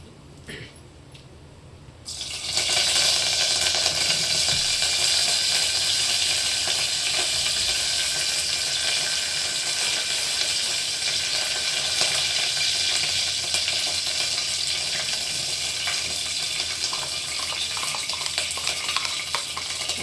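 Cumin seeds and curry leaves hit hot oil, bursting into a loud, steady sizzle after a short quiet start and crackling on continuously in a home kitchen.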